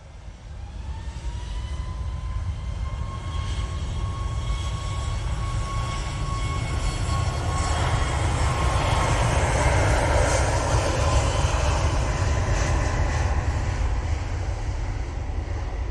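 A departing airliner at Manchester Airport roars steadily and loudly throughout, a broad engine rumble with a rising whine, no talk over it.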